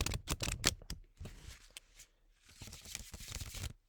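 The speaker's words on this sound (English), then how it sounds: "I'm going to start with my usual 3 times casual shuffle." Potluck Buffet oracle cards shuffled by hand in quick casual riffles, a close papery flutter and slap in short bursts with a brief lull in between.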